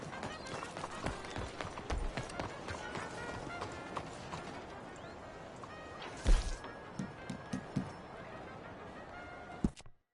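A horse galloping in Red Dead Redemption 2 drums a steady run of hoofbeats, with a few sharper thuds and background game sounds layered over it.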